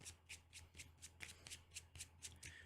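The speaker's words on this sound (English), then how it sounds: "Then this gets shuffled." A deck of Arkham Horror game cards is riffled and shuffled by hand, giving about ten quick, soft crisp bursts in an even rhythm, close and quiet, with no talking.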